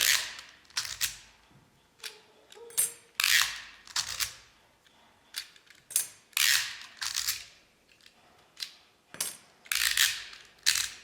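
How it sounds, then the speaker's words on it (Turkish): Clicks and slides from a Stanley FatMax snap-off utility knife as its blade mechanism is pulled and reset, a series of close, sharp metallic clacks and scrapes at an irregular pace with no speech. "Çektiğinizde yeni uç tekrar geliyor."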